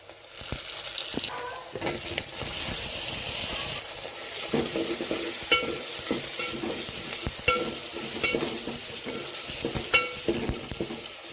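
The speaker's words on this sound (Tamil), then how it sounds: "தக்காளி, வெங்காயம் எல்லாமே நல்லா வதங்கிடுச்சு." Onion and tomato fry in a pan for hotel-style sambar, a steady sizzle broken by repeated scraping stirs of a spoon, close and continuous with no talking.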